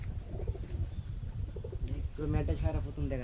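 Domestic local pigeons at a loft give soft, low cooing calls that repeat steadily and moderately close, with a voice murmuring faintly in the background.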